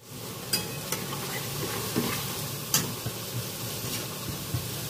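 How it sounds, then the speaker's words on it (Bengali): Green jackfruit muithya dumplings fry in hot oil with a steady, dense sizzle, broken by sharp clicks and scrapes of stirring utensils at irregular moments, close and fairly loud with no talking. "তাহলে আমি মুইঠাগুলো ভেজে নিয়ে আসছি।"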